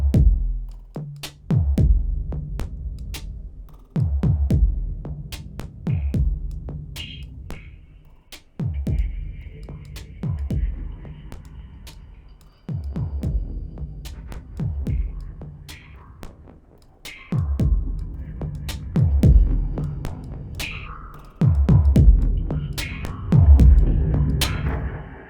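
A drum loop run through chained convolution reverbs and effects, with repeated thumping hits that each trail off into a smeared, washy tail, in a steady, loud pattern with no voices.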